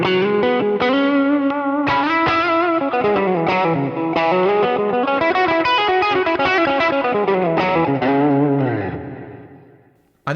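Overdriven electric guitar through a modeled Tube Screamer with an EQ cut applied plays a loud, continuous melodic phrase of sustained distorted notes before the sound trails off, with no talk.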